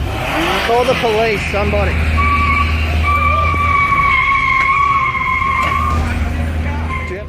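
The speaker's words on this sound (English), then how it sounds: "Our guy floors the pedal in neutral" A white Mitsubishi Outlander's engine is floored in neutral at a busy Brisbane car dealership, a loud sustained roar under frantic shouting, while a high wailing tone sounds through the middle.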